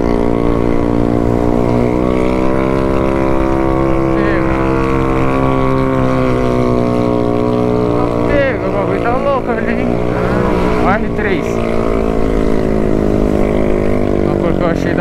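A Honda CB Twister 300F motorcycle engine revs, a loud, steady harmonic drone with pitch swells as the throttle opens, close by. Speech is faint in the background.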